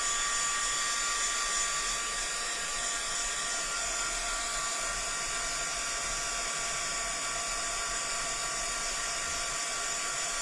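A hair dryer blowing steadily on crafting paper, a constant close whirring hiss with a high whine that holds unbroken throughout, with no voices.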